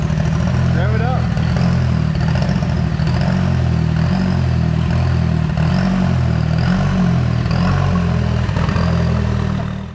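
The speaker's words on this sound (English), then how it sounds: "Rev it up." A 2011-2016 Chevy Cruze engine, just back together after a clutch replacement and engine removal, runs loud and close with a deep, steady rumble and rising revs.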